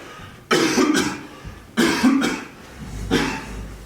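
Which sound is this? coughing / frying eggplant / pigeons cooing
coughing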